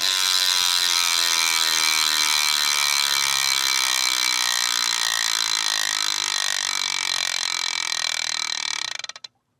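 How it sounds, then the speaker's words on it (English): A steady, rapid clicking buzz of a bicycle freehub ratchet as the rear wheel spins freely, loud and close, slowing slightly before stopping abruptly. "Let's spin the rear wheel up and you get to hear that ratchet sound again."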